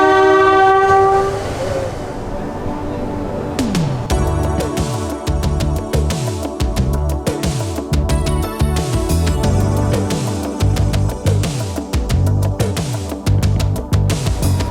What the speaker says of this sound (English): we are on the Cog Train, and it is going to whisk us away 20 minutes up this mountain